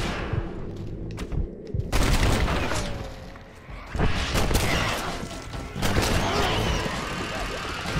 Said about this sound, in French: Ouah, on me tire dessus.